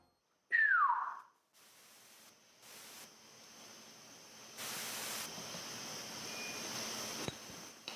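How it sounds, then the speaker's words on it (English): A single loud, short electronic beep sweeps downward in pitch, then gives way to faint steady hiss and room noise. "I heard what sounded like an electronic beep."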